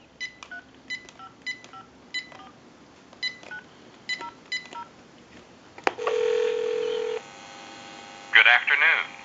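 Touch-tone telephone dialing a time and temperature number: a quick run of about a dozen distinct key beeps over faint hum, followed by a steady tone, then brief ringing or voice-like sound near the end.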